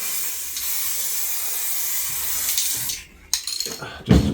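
Aerosol can of spray paint misting a light dusting coat onto a Volvo 240 light, a steady close hiss lasting about three seconds, then a pause and short bursts with some handling clatter.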